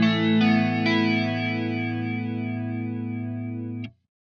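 A grainy, slightly beaten-up 1979 ADA Flanger plugin emulation sweeps over a sustained, harmonically rich tone, swirling evenly for nearly four seconds before cutting off abruptly into silence.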